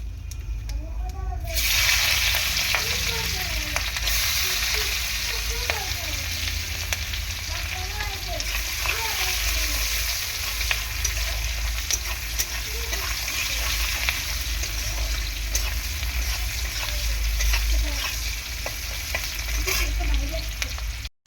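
Onion fries in oil with a five-spice tempering for a bitter gourd dish, giving a loud, continuous close sizzle that runs steadily throughout, with faint stirring and no voices.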